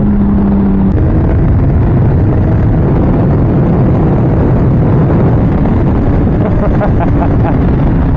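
A motorcycle fitted with a Translogic QSXI quick shifter and a Domino XM2 quick-action throttle roars loudly under hard acceleration, rising through gear changes. Heavy wind buffeting covers the microphone throughout.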